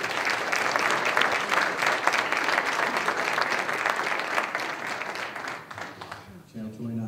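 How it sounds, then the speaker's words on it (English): An audience at a Fort Irwin community gathering applauds steadily and loudly for about six seconds, then the clapping fades out and a voice starts speaking. "Hey, one last round of applause."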